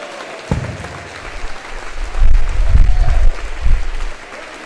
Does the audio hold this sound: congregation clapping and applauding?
yes